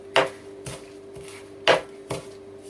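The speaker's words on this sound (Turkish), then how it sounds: "Hemen onları da şöyle ufak ufak yine doğruyorum" Four sharp knife chops on a cutting board as young nettle leaves are cut finely for meatballs, distinct irregular thuds close up in a quiet kitchen.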